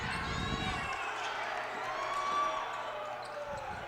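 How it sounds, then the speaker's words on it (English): Boisterous crowd at a girls' high school basketball game in a gym, a loud, sustained roar of cheering and shouting with sneakers and bouncing balls mixed in, under an announcer's voice. "Crowd very boisterous tonight"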